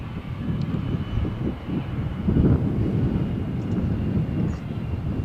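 An airplane takes off from the Malaga Airport runway on a stormy morning, its engines giving a low, continuous rumble that swells slightly midway, heard from a distance with no talk.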